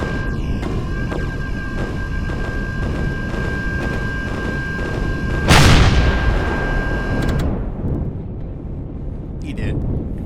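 Rockets fire in the space game Empyrion, a sharp loud blast midway through a steady roar of engine and weapon noise, followed by a fading rush and a few faint clicks.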